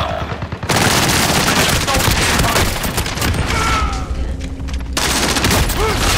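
Heavy automatic gunfire in the Warzone battle-royale video game, dense continuous bursts of loud shots close by over nearly the whole stretch, with a brief quieter gap before the firing resumes.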